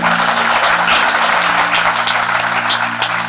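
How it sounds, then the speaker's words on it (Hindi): Audience applause at a public event, a dense, continuous wash of many hands clapping, loud and sustained across the whole stretch, with a steady hum beneath it. "तो उनके लिए भी जोरदार एक बार तालियां हो जाएं।"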